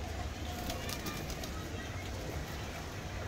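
Pigeons kept by a pigeon fancier in Dharampura, heard as soft cooing amid a steady, dense background wash with faint wing sounds, fairly close, with no clear talk.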